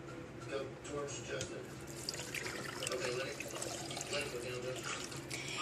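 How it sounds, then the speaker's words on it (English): About two cups of water pour into a crock pot holding a seasoned roast for tacos, a continuous splashing trickle at moderate level that holds steady throughout, with a voice faintly present. "I'm going to add in about 2 cups of water"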